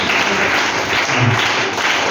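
An audience at a free medical camp in a Red Cross ashram claps steadily to welcome a visiting medical team, a dense burst of applause lasting about two seconds.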